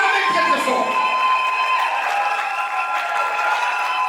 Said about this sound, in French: Nous allons les acclamer très très fort.